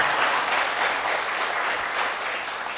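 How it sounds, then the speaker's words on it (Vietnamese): An audience at a Catholic religious ceremony gives sustained, even applause, a dense clapping that stays loud throughout and tapers slightly at the end. "Let's give his parents a big hand, please."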